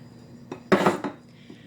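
Chopped onions, a cup's worth, tumble into a soup pot with a short clattering burst of contact against the pot, brief and close, with no talking.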